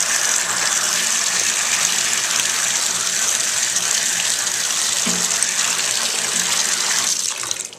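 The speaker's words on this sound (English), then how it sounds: "Bathtub faucet." A bathtub faucet that will not shut off, water gushing steadily and loudly into the tub for the whole stretch, a constant close hiss with a brief low bump near the end.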